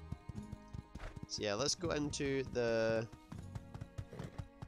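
Horse hooves clip-clop at a steady walking rhythm in My Time at Sandrock, running faintly through the whole stretch under game music, with a person talking over the middle.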